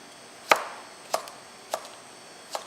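A knife chops through cucumber on a board in four separate sharp cuts spaced about half a second apart, each a crisp tap with a brief fade, with no one speaking.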